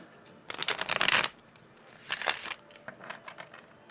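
Tarot and oracle cards are shuffled in two crisp riffling bursts followed by softer card handling, close and clear with no talk.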